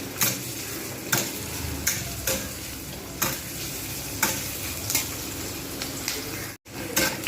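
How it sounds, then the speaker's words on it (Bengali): Onions sizzle steadily in a pan while a utensil scrapes and stirs through them in regular strokes about once a second, close up and with no talking. "আগে এটা একটু লালচে করে ভেজে নিই পেঁয়াজটাকে"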